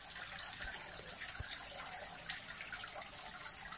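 Fine water spray hissing steadily onto a clump of Spanish moss (Tillandsia usneoides), a continuous soft, broadband wash lasting the whole stretch with no talk.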